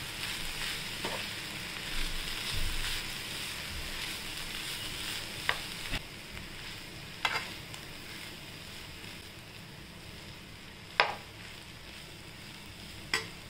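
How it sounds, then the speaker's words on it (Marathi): Beetroot rice mixture being sautéed in a pan, a steady soft sizzle with occasional scraping stirs of a spoon against the pan, close and fairly quiet, with no talk. "आता परतून घेऊया आपण सगळं।"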